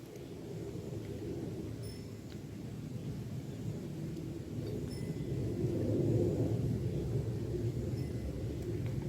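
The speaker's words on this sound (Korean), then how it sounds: "비행기 소리야, 비행기 소리." A low, steady rumble that slowly swells and grows a little louder toward the end, like an airplane passing high overhead.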